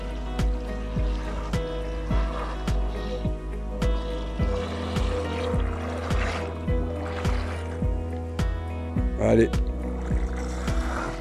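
Small Chinese AliExpress RC bait boat running in reverse on open water, a steady motor hum with rhythmic splashing pulses from the hull, close by, with someone briefly speaking over it.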